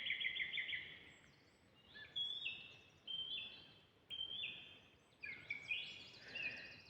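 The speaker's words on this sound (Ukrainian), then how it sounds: "оце так співає датський соловей" A nightingale sings outdoors in Denmark in spring, giving a series of bright, varied whistled and trilling phrases separated by short pauses, fairly faint against a soft background hiss.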